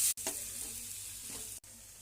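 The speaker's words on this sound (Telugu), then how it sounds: "తర్వాత నెక్స్ట్ మనము కరివేపాకు కొద్దిగా లైట్గా వేగితే చాలు" Curry leaves frying lightly in oil give a faint, soft sizzle that lasts about two seconds and is broken by brief dropouts.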